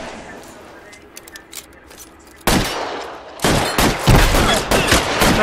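Rapid gunfire in an L.A. Noire shootout erupts loudly after a quieter stretch of faint clicks, continuing as dense repeated bursts to the end, with no voices.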